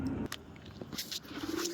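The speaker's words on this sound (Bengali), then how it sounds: "এই দেখো পায়রা নামছে, দেখতেই পাবে, আমার বাড়িতেই নামছে" Pigeons flying over and settling onto a house roof, soft cooing and brief wing flutters close by with a steady hum of background noise beneath.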